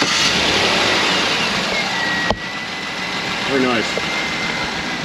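A diesel truck engine, fitted with new parts after a repair, turns over and catches, then idles with a steady low rumble and a brief rev; someone speaks briefly over it close by.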